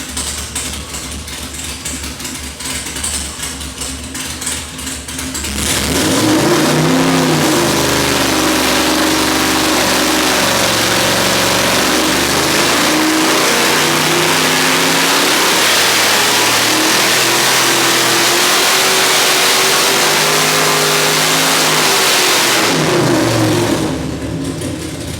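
A 540 cubic inch big block Chevy engine on a dyno, built for over 650 horsepower on pump gas, rumbles loud and close, then revs up hard from about six seconds and holds a roaring, rising and falling pull before settling back to idle.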